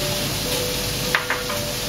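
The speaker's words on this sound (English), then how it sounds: "put in a separate pan the onions to saute" Onions sauté in a pan with a dense, continuous sizzle, loud and close, broken by a couple of quick stirring scrapes near the middle.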